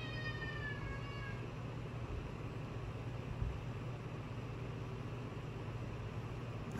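A house cat meows softly a few times near a kitchen counter, faint against a constant background hiss and low hum, with no talking.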